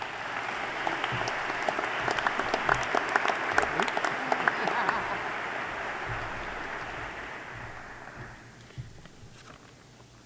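Audience applause welcoming Justice Sinclair at the Truth and Reconciliation Commission of Canada signing event: a large crowd claps steadily for several seconds, slowly thinning out toward the end, with faint movement and footsteps in the room.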